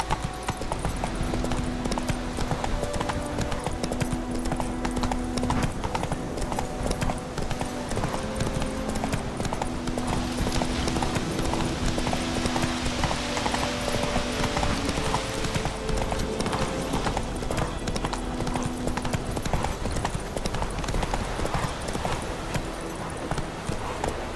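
Roach, Geralt's horse in The Witcher 3 video game, trots along with steady, rhythmic clip-clop hoofbeats, close and continuous over a soft musical background.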